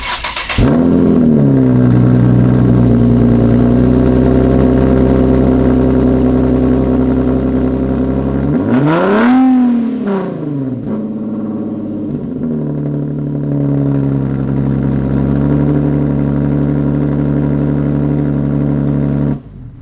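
A Nissan 370Z with catless downpipes cold-starts: a sharp crank and catch flares into a loud high idle, a quick rev blips around the middle, then the engine settles into a steady, throaty idle until it cuts off.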